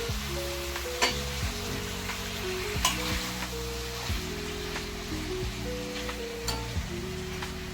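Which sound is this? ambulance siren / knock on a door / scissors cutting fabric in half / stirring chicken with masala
stirring chicken with masala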